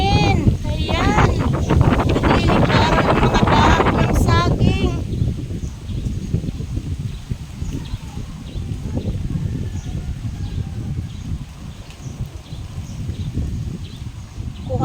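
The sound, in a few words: strong wind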